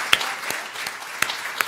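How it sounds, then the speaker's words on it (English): Scattered applause from the audience at a school board meeting honoring a graduating student, a light patter of claps with a few louder individual smacks standing out, fairly sparse and moderately close. "Could I ask you to hold your applause until she tells us where they're going to school at?"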